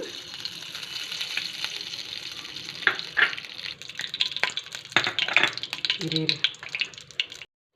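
Cashews fry in ghee for Chettinad Rangoon kesari, a close bubbling sizzle with crackles and stirring scrapes that builds louder toward the end before cutting off.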